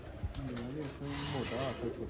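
A pigeon coos up close in a few soft, rolling, throaty phrases, with low voices briefly audible in the background.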